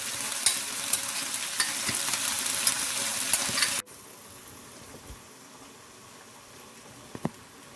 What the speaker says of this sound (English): once my sweet and sour sauce starts sizzling